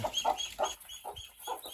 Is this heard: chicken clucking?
yes